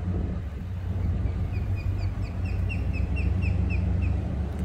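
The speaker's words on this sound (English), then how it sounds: "The birds are back." Birds chirp and call repeatedly outdoors after Hurricane Ian, with a series of short, bright calls over a steady low rumble of wind or traffic and no talking.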